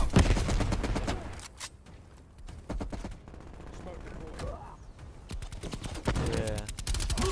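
Gunfire in Call of Duty: Cold War during a Hardpoint match, with bursts of rapid shots and separate cracks spread through the clip, some loud and close, heard under voices talking over team chat.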